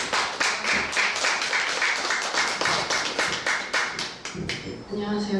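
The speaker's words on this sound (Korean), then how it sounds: "제가 소개해드리면 박수 한번 부탁드립니다." An indoor audience at a humanities lecture in Bucheon claps in warm, steady applause for an introduced university professor, sustained for several seconds and close by.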